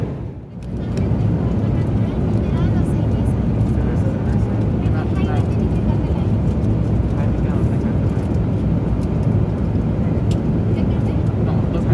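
Steady, loud airliner cabin roar of a Delta flight climbing just after takeoff, a dense engine and air rumble that continues unbroken throughout.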